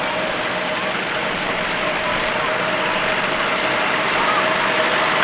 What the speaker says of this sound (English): And the Nuffield there with a 4-cylinder diesel engine.